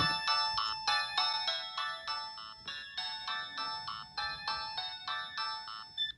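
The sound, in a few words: ringtone loop of an old mobile phone, older-Samsung style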